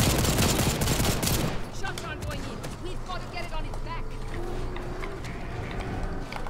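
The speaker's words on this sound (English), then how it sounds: "Unloading the grenade launcher" Grenade launcher unloading in the video game Second Extinction: a dense, loud burst of rapid firing and blasts up front, then a steady rumble of continued combat noise with scattered impacts, while people talk throughout.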